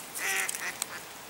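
A few brief, faint quacks from ducks gathered among swans and cygnets being fed by a river at Yarrow, sounding a short distance off.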